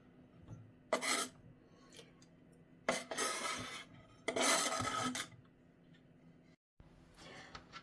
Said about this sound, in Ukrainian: Огірочки теж ріжемо соломкою